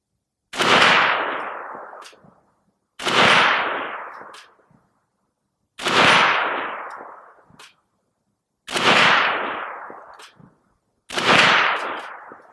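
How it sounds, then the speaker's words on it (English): Five loud, sharp rifle shots from a Definitive Arms AK-103U, an AK-47 variant, fired at steel targets, spaced about every two to three seconds, each followed by a short ringing decay and faint metallic pings. "Let's see if we can ring some of that steel first."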